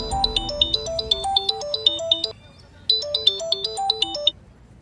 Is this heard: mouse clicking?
no